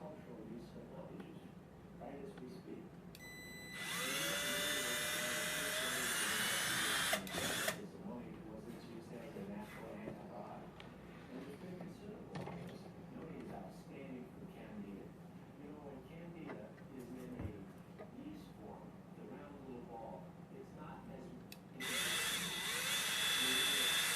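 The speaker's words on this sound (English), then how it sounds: "we're going to go ahead and drill the holes where they need to go" A power drill whirs in two bursts, at the start and end, with quieter mechanical handling sounds and soft speech in between.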